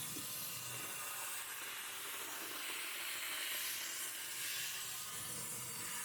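A steam cleaner hisses steadily and continuously while softening grime during cleaning of a kitchen extractor hood, with no talk.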